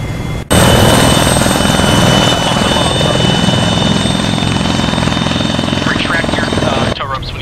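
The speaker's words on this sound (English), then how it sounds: "Take the heli back to base." Helicopter in the Arma 3 video game, a loud steady rotor and engine drone that starts abruptly and runs continuously, with faint voices over it near the end.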